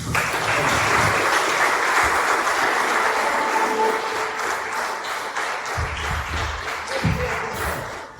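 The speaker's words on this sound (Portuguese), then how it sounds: "que as palmas vão do Senhor Jesus" A church congregation applauds for the Lord Jesus with a full, sustained roar of clapping that stays loud throughout and tapers slightly near the end, with a few low thuds underneath.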